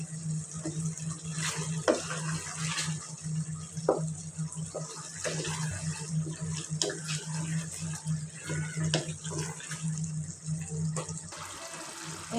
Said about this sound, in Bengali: এই যে আমি পরিমাণ মতন পানি দিয়ে দিলাম।